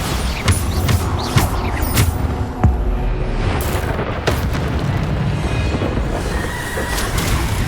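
Bombarda spell blasts going off in Hogwarts Legacy, several loud booming explosions with sharp attacks early on, followed by continuous rumbling combat noise with no talking.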